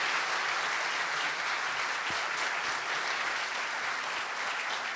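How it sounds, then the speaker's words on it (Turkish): An audience at a medical faculty celebration in Ankara applauds a student orchestra with steady, even clapping that fills the hall, heard at moderate level with no voices standing out. "kendilerini alkışlarla uğurluyoruz"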